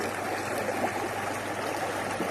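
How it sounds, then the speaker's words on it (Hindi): Clear Himalayan mountain stream in Uttarakhand flowing steadily, a close, loud, continuous rush and trickle of water with no voices. "और ये पानी की आवाज़ आपको एकदम मंत्रमुग्ध कर देगी इस समय।"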